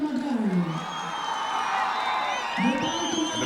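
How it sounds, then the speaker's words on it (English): Home stadium crowd roaring and whooping after Nepal's first goal in a football match against Lebanon, a broad swelling cheer with rising shouts, with a commentator talking over it. "And the crowd here have erupted."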